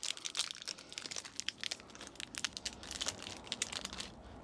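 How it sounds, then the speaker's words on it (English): A wrapper around a traditional Icelandic wafer sweet crinkles and crackles as it is carefully opened, a continuous run of close, sharp plastic rustles with small bursts, heard alone. "let's see if we can open this without absolutely smashing the wafer inside"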